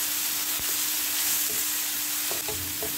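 Chopped tomatoes fry and sizzle in a pan, with a steady hiss throughout and a few light clinks and scrapes from stirring, close and with no talking.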